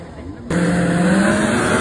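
Car engine revving hard at a drag race on a Sunday at Safia Ground, loud and close, jumping to a steady roar partway through with talk mixed in.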